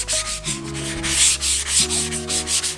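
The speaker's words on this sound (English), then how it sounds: "I'm not pushing hard, I'm just lightly scuffing everything up." Light hand sanding of an old JDM Nardi steering wheel with roughly 200-grit paper, a steady close rubbing scuff that runs continuously in broad, even strokes alongside a low tonal hum.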